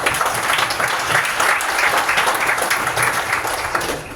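Audience applause at a tech demo night, a dense, steady wash of many hands clapping close and loud for about four seconds, tapering slightly at the end.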